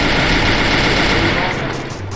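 Rapid automatic gunfire in the mobile shooter Garena Free Fire, a dense continuous burst of shots that fades slightly toward the end, loud and close, with a voice talking over it.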